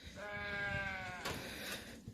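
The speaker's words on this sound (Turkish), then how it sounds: "Onun için bak koyunlarımız da nasıl geliyor." Sheep and goats in a Turkish village, one animal bleating in a wavering call close by, followed by a shorter rough bleat over a low rumble of outdoor background noise.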